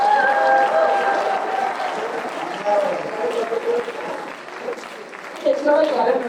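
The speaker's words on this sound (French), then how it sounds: "Est-ce qu'on peut faire un second tournée d'applaudissements?" A church congregation applauds, with loud clapping at the start that thins to scattered claps and then swells again near the end. Indistinct voices murmur underneath.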